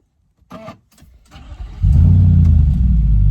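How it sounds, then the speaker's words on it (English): A few clicks and a short crank, then a Nissan Patrol Y62 SUV engine cold-starts and roars loudly to life, settling into a deep, steady rumble. "Cold start, it barks. Give it a little rev"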